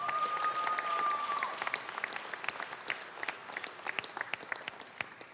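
A crowd gives a round of applause for sponsors at an NFL Draft handoff event, clapping that starts dense and fades into scattered individual claps, with a whistle near the beginning.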